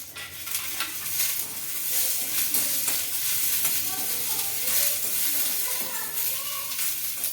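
Green chillies, garlic, mint and tamarind fry in a pan for peanut chutney, giving a steady close sizzle with scraping stirring strokes and clinks throughout, and a quiet voice faintly underneath.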